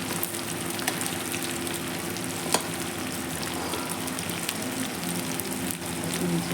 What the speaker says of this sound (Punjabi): ਥੋੜਾ ਜਿਹਾ ਮਸਾਲਾ ਜਿਹਾ ਭੁੰਨ ਲਾਂਗੇ